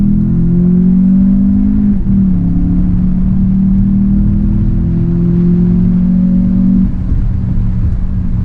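A 2020 VW Jetta GLI with a DSG dual-clutch gearbox accelerates hard on open road, its engine droning loud and close, with two quick gear-shift dips breaking the rising pitch.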